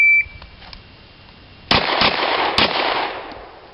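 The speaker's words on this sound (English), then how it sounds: "Shoot it." Handgun shots fired during an IDPA shooting classifier stage ring out outdoors: a sharp report at about 1.7 s, more cracks near 2.0 and 2.6 s, then a lingering echo, after a quiet start with a brief beep.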